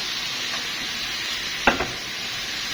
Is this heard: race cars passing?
no